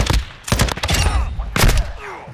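Gunfire in Call of Duty Modern Warfare II: a few loud, close bursts of rapid shots in quick succession, separated by short gaps, with no talk over them.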